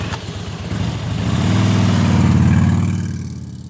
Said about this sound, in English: Let's say I have a scene with my motorcycle that I want to sound design.